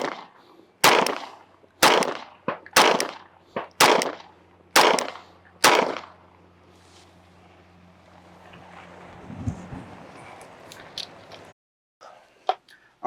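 Canik pistol fired outdoors at a shooting range: six sharp, loud shots in a steady rhythm over about five seconds, with wind noise afterward and a few fainter clicks near the end.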